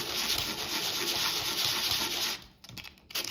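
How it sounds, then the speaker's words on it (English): Sandpaper rubs across the flat diagonal faces of a 3D printed erecting mirror diagonal in quick, steady strokes, close and moderately loud, then stops and gives way to a few softer scrapes and handling noises. "So you can clean up these surfaces with some sandpaper just to make sure they're kind of flat."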